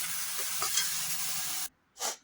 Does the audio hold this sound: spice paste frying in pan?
yes